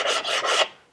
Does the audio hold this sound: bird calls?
no